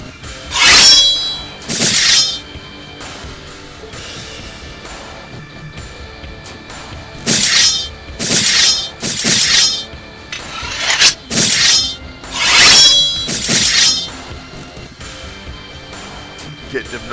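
Sword strike sound effects in a tabletop AD&D session, a series of sharp metallic clangs and shattering clinks in clusters, loud and repeated, between stretches of talking.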